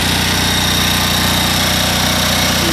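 A Honda engine, part of a hybrid build with a pressure-lubricated crankcase and spin-on oil filter, runs at full throttle, giving a loud, steady drone with an even, rapid pulsing throughout.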